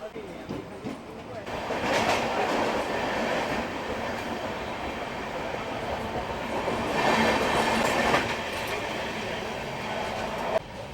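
The Sealdah–Jalpaiguri Road sleeper train 13115 rolls along steadily, its broad rumble and rattling carriages swelling and easing over several seconds, with a sharp clack near the end.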